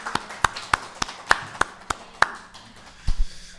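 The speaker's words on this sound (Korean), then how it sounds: "여러분을 박수로 환영하겠습니다" Sparse hand claps in a small church Bible study gathering, about eight single sharp claps spaced evenly, close and moderately loud, with a faint thump near the end.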